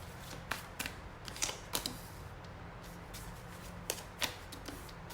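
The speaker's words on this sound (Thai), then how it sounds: "ขอเวลาเปิดไพ่สักครู่นะคะ" Tarot cards being shuffled, flipped and laid out on a table, a string of soft snapping flicks and taps in uneven bursts, close and quiet.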